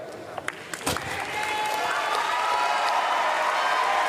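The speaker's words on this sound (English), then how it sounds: "Muted, anxious applause." At a Paralympic powerlifting final, a few scattered claps come first, then an arena crowd swells into sustained, somewhat subdued applause that holds steady to the end.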